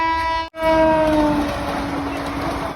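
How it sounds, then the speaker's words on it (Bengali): A train passes through a station at night, opening with a loud, sustained horn blast that falls in pitch before giving way to a heavy rolling rumble, close and loud. "খালি পুই পুই পুই পুই করে ট্রেন যায়"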